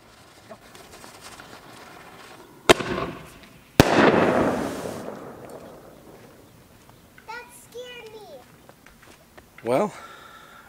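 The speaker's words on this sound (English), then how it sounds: "I'm going to launch off this one by itself right now" A firework mortar tube launches with a sharp bang, then a second loud blast and a whooshing burst that fades, with children's voices chattering afterward.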